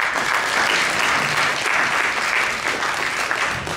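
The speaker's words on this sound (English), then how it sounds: "Please give a round of applause for Brother Ali." An audience at a talk on Malcolm X, Islam and hip hop breaks into steady, loud applause that fills the whole stretch without a break.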